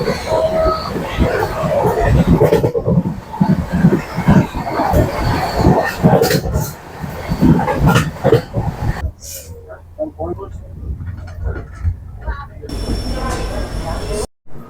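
The Howrah Puri Shatabdi Express runs through monsoon rain with a loud, continuous rumble and rattle that thins after a few seconds and then swells again near the end.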